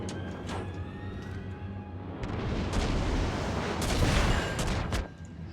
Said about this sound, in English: Half my salvo gets clipped by the mountain, but enough of it nails the Fletcher dead center